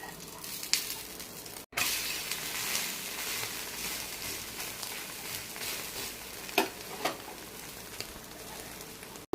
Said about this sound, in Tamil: கொஞ்சம் நல்லா வேகணும் அடிப்பக்கம் வேகிச்சு திருப்பி போடுறேன்